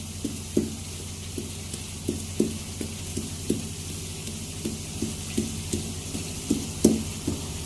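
Prawns frying in hot oil in a wok, a steady low sizzle broken by regular clacks and scrapes of a stirring utensil, close and moderately quiet, with no talking.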